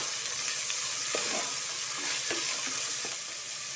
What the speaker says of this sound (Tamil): இப்போ இதையும் ஒரு தடவை நல்லா மிக்ஸ் பண்ணி விடுறேன்.